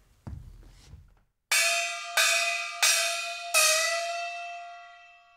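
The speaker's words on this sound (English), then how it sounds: "These actually have a pitch to them, and the pitch, once you strike it, can either bend up or bend down." Pitched tam-tam struck four times at a steady pace, each stroke ringing bright and sustained with its pitch bending upward before the next hit, heard alone after a short low rumble.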